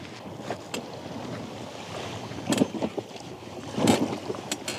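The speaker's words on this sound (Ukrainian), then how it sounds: "Це все вітер по руслу." Strong wind buffets a river channel during a fishing trip in uneven gusts, with louder blasts roaring through over a constant rushing background of wind-driven waves.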